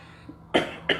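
A man coughs twice in quick succession during a Spanish-language sermon, with two short, close, fairly loud bursts after a quiet moment.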